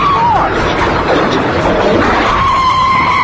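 An unmarked police car roars off with tires squealing and skidding, a high screech sweeping over loud engine noise throughout.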